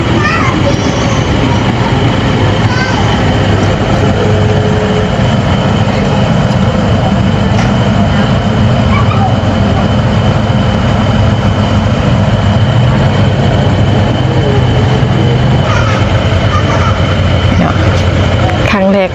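Aboard a Laos-China railway train, a steady, loud rumble of the carriage and heavy running gear fills the interior, continuous throughout, with voices talking at times over it.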